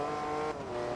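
Jaguar C-X75 race car engine in Forza Motorsport 2, a loud steady high-pitched drone held close with a slight dip in pitch partway through, alone without talk.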